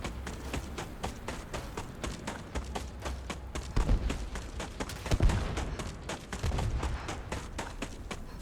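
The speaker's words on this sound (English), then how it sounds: "Just hear explosions behind me." Explosions and gunfire-like bursts in the video game Starfield, a run of sharp repeated cracks and thuds with heavier booms near the middle, moderately loud against a busy game soundscape.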